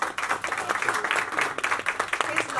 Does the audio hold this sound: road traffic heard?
no